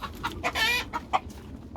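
A rooster clucks in a farmyard pen in a series of short, close, fairly loud clucks with uneven gaps, including one longer drawn-out call partway through.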